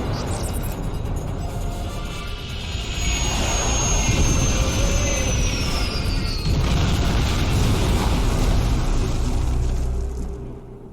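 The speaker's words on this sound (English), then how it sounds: "Get us on the ground, Commander. Crash positions. Brace for impact." A starship crash-lands in the video game Star Trek Online, with a loud, sustained jet-like roar and rumble, a descending whine, and a heavy rushing impact that fades out at the end.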